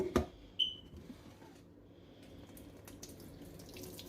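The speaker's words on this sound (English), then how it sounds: "just going to wash out everything nicely" Corn on the cob and vegetables rinsed under a running kitchen tap, a steady low wash of flowing water with a couple of short knocks near the start.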